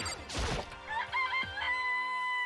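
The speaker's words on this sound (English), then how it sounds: "It's a chicken." A chicken in the video game Danganronpa gives a short crow and clucks. A noisy rush leads into a bright, wavering crowing call that rises and holds, loud and close over a steady background tone.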